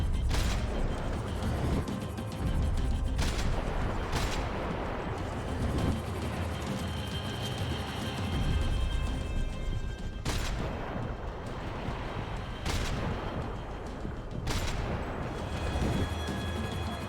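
Dense gunfire in the video game Max Payne 3, sharp shots cracking over a loud continuous rumble of action noise, with several sudden louder blasts spaced through the sequence.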